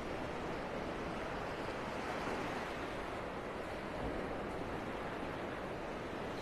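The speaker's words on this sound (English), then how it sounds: "The waves are colliding with each other here." Ocean waves wash and collide continuously on Vanderbilt Beach in North Naples, Florida, a steady broad roar of surf with wind noise and no voices.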